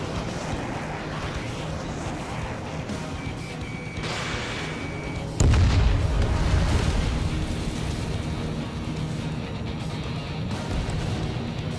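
A destroyed target explodes in the video game Ace Combat 7: a sudden loud, close boom partway through that settles into a long, heavy rumble above a steady airy roar; no talking.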